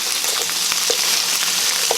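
Hash meat fries in a pan with a loud, continuous sizzle, broken by a few sharp crackles and pops up close.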